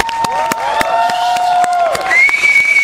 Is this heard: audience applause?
yes